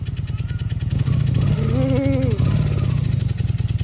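A Honda Magna VF700 motorcycle engine runs close and loud with a steady, pulsing rumble. Midway a whining tone rises and falls, and a voice speaks briefly over the engine.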